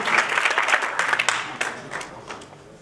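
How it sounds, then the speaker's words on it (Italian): Audience applause at a political list presentation rally as a speaker is called to centre stage, a dense burst of many hands clapping that gradually thins and fades over a few seconds. "facciamo un applauso a Paola."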